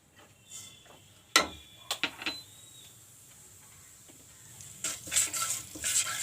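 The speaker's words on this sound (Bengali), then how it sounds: "এবার তেলটা একটু গরম হলে এর মধ্যে দিয়ে দিচ্ছি এক চিমটের মতো হিং আর এর সাথেই দিচ্ছি অল্প এক চামচের মতো ছোট চামচের এক চামচ কালো জিরে" Asafoetida and nigella seeds sizzle in hot oil, heard as a quiet crackle broken by several sharp clicks and taps, with a brief louder burst of sizzling near the end.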